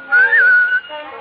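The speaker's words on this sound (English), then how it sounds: "Give a little whistle." A single melodic human whistle, loud and close, rising slightly then holding a steady tone before trailing off, performed in a 1939 Christmas radio drama of Pinocchio.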